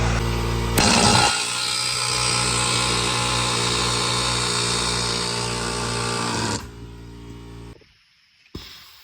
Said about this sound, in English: If you don't have an air chisel, air hammer, buy one.